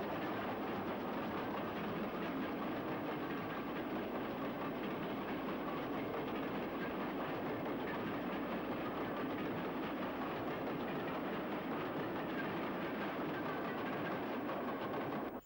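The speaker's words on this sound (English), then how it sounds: "King George V forges up Coton Hill Bank out of Shrewsbury" GWR King-class steam locomotive King George V forging up Coton Hill Bank out of Shrewsbury, a loud, continuous roar of working steam and rolling train that holds steady throughout with no voices.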